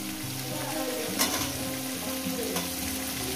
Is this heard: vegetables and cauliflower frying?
yes